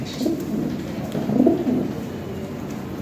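Lahore pigeons kept in pairs for sale coo in low, throaty bursts, several birds close by and overlapping steadily with no voices.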